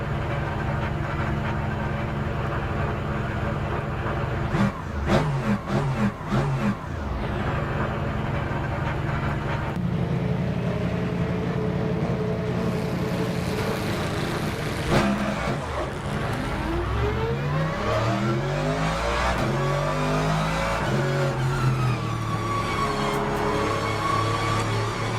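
Race car engines on a formation lap in the Le Mans Ultimate sim racing game, a steady layered drone with rising and falling pitch sweeps as the cars accelerate and ease off, with no talking.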